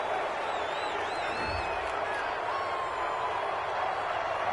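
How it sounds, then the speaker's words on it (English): A crowd in a PS4 football video game roars in a loud, steady wash of noise after a penalty call, sustained throughout with no clear breaks. "this crowd does not like that call"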